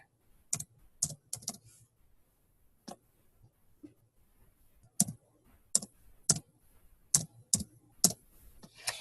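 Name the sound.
typing an order number on a computer keyboard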